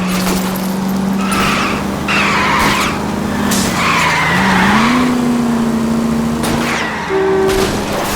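Car chase in the video game L.A. Noire, with a revving engine and repeated loud tire screeches as the car skids through turns, close and intense.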